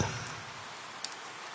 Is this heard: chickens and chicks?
no